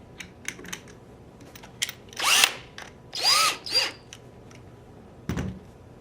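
A power drill fitted with a bit whirs in short bursts while installing a trigger assembly, with several brief high whines and scattered small clicks and handling taps nearby, no talking.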